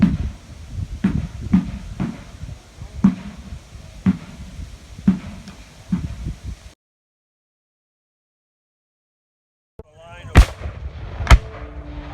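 Artillery barrage at a Civil War re-enactment: a run of booming reports about every half to one second, each loud and near, over rumbling background, then a silent gap and two more sharp blasts.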